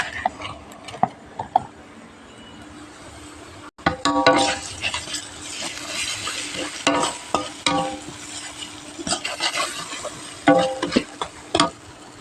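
Masala with ginger-garlic paste and ground spices frying in a pan, a crackling sizzle after a short quiet start, with repeated scraping stirs and metallic spatula knocks against the pan, up close, nobody speaking.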